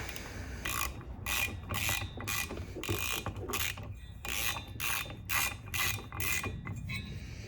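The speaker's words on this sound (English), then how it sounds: "So 13mm nut. And we'll go ahead and get this tight. Just grab the ratchet." A ratchet tightens a 13mm nut on a Sachs KM3 Wankel rotary engine. About a dozen quick, close clicking bursts come in a regular rhythm with short pauses between strokes.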